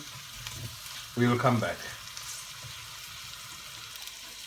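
Onions sizzle steadily in a pot on the stove while being stirred, a continuous close frying hiss; someone speaks briefly partway through over the cooking.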